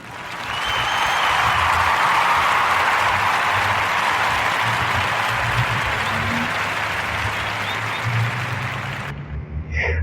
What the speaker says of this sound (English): round of applause for the belated born day of Malcolm X.